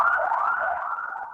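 An emergency siren wails outside a room where a live agricultural lecture is under way, its tone sliding up and down for about a second before easing off, loud and alone with no talking.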